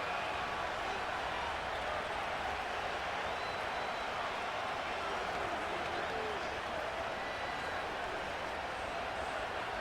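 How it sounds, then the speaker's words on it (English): Stadium crowd from Madden NFL 25, a Cleveland Browns vs Kansas City Chiefs game on Xbox Series X, rumbles as a steady, dense roar throughout, sitting under play-by-play commentary. "they're going to hear it from this crowd"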